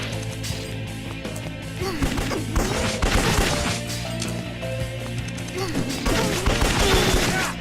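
Repeated gunfire from Devil Summoner 2, Raidou Kuzunoha's gun fired in battle against King Abaddon, crackling in dense bursts amid clashing combat effects and game music, loud and continuous throughout.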